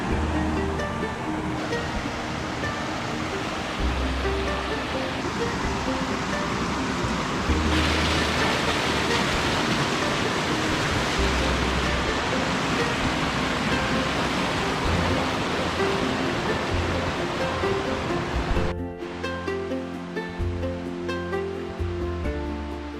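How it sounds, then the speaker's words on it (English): A trailside waterfall near Clingman's Dome in the Great Smoky Mountains, a steady broadband roar of falling water that swells louder partway through, with a brief change in texture near the end. "I should be getting to the waterfall any second."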